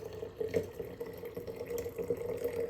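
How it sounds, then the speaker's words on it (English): Stinging nettle and mango lemonade, with herbs and fruit, pours into a jar in soft, splashing and trickling bursts, fairly quiet and close. "I'm just going to pour everything in my jar."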